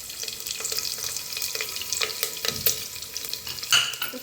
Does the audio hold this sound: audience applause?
no